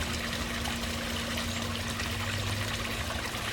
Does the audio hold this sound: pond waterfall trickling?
yes